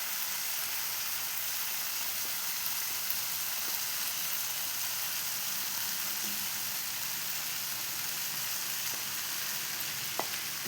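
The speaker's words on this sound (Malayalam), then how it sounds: "അപ്പം ഞാൻ ചോറ് ഇതിലേക്ക് ഇടുന്നുണ്ട്" Cooked rice going into a hot tomato mixture in a pan, giving a steady close sizzle and frying hiss with faint stirring taps, no talking.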